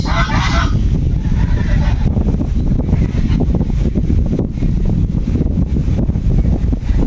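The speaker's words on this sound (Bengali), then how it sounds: "হাঁসগুলো নদী থেকে চলে আসছে" A flock of ducks returning from a river in strong wind calls out in a burst of honking quacks at the start, followed by scattered calls over steady wind rumble.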